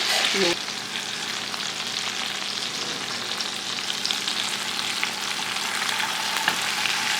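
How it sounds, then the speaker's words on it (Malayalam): Chicken pieces shallow frying in oil in a pan give a loud, continuous crackling sizzle close by, steady throughout with a brief clatter at the start. "അപ്പം നമ്മൾ ഷാലോ ഫ്രൈ ചെയ്തെടുത്തിട്ടുണ്ട് എല്ലാ ഭാഗവും നന്നായിട്ടൊന്ന് പൊരിച്ചെടുത്തിട്ടുണ്ട്"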